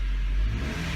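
A 1998-2000 Honda Civic DX hatchback engine with a replacement exhaust revs briefly, a loud, close rising engine roar with a deep exhaust rumble, heard alone.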